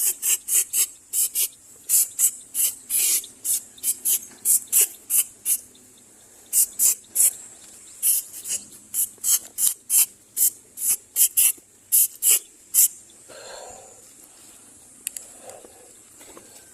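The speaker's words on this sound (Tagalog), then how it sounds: "Ating i-spray yan." Bursts of insecticide from a hand sprayer onto cattle to kill flies, about thirty short hissing puffs in a fast irregular rhythm, close and fairly loud, with a brief pause midway and no talk over them.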